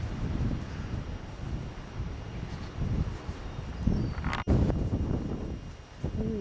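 Strong wind buffets an outdoor microphone while a model airplane's wings are being fitted, a continuous roaring rumble that surges in gusts, with a brief knock partway through.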